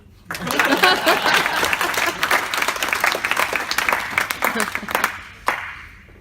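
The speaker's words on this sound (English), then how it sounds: "This is where you clap." Convention panel audience at DragonCon breaks into loud applause, a dense clatter of many hands clapping that swells quickly, holds, then thins out, with voices mixed in.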